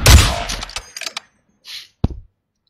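Bursts of gunfire from a first-person shooter video game: a quick rattling volley, a few scattered shots, then a single sharp report, close and punchy.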